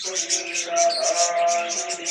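Birds chirp and coo in a steady overlapping chorus, moderately close, with no talking.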